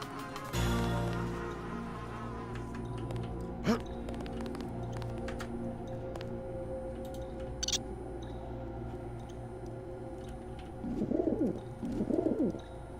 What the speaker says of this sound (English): I hear that pigeon.